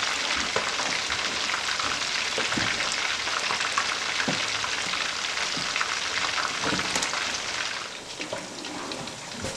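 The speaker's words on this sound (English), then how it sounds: "The fish was frying for about 6 minutes. Now I flipped it on the other side" Fish frying in hot oil, a loud dense crackling sizzle close up, continuous with scattered pops and a brief shift as it is flipped near the end.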